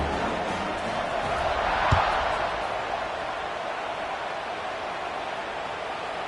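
Stadium crowd at a football game before a kickoff, a steady, distant roar of cheering and noise that holds level throughout, with one brief thump near the start.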